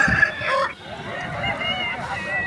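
Fowl calls at the Nallapadu rooster market, with a short crowing or clucking burst near the start over a busy background of other birds and distant voices.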